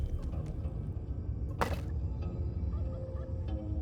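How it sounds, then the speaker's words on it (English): Turkeys gobble in the Dungeons 4 video game, a brief burst of warbling gobbles set against a steady low background of game ambience and music. "Oh, that's all my turkeys."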